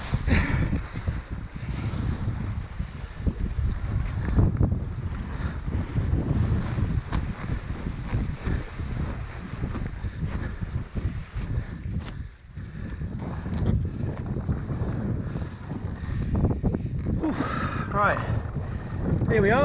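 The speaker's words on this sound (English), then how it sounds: "Wind's probably about 15 miles an hour." Gusty wind buffets the microphone over open water during wing foiling in roughly 15 mph wind, a loud, rumbling roar that surges and dips throughout with faint water noise beneath.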